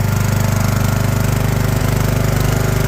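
A single-cylinder Briggs & Stratton OHV engine with a blown head gasket runs steadily nearby, its loud, rapid, even chugging thump with a rough knocking edge continuing throughout with no talk.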